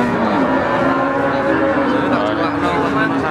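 Simmental cattle at a crowded livestock market, with steady lowing and moos close by over a continuous din of voices and ambient crowd noise.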